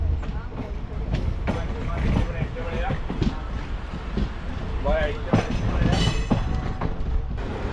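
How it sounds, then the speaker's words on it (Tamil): A passenger train on the Chennai Central to Thalassery route runs on its rails just after pulling out of a station, a steady close rumble with rhythmic wheel clatter and a voice talking over it. "இப்போது இந்த ட்ரெயின் ஸ்டார்ட் ஆகிடுச்சு"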